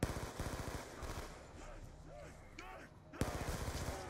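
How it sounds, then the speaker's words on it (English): Rapid bursts of automatic gunfire from a gun in the Mob of the Dead zombie game rattle at the start and end, with people talking over a busy middle stretch. "I got a gun. It goes bang bang."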